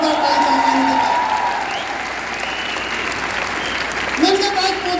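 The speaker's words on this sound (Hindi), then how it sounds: "जोरदार ताली चाहिए इनके पास" Loud, sustained applause from a seminar audience fills the room at close range, swelling and holding steady for several seconds before easing off as a voice on a microphone speaks over it at the start and end.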